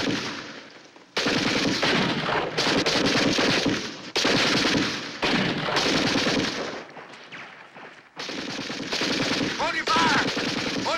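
Machine gun fire in a war drama battle scene, long loud bursts of rapid automatic shots broken by short pauses, close and dense throughout.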